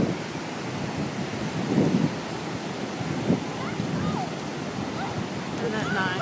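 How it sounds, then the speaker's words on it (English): Ocean waves wash onto the sand at Bryan Beach, Texas, as a steady, full roar with a few louder surges and wind, while faint voices come through underneath. "but we found a beach anyways"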